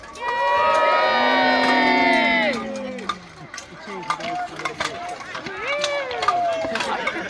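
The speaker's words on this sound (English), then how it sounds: "Have a cheer for the men of Surrey" Outdoor crowd at a medieval joust land battle re-enactment cheering for the men of Surrey, a loud sustained roar of shouts and whoops that breaks into scattered calls and voices.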